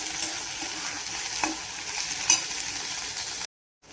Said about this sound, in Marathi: आता टॅमॅटो टाकते. टॅमॅटो पण चांगला असा परतून घ्यायचा.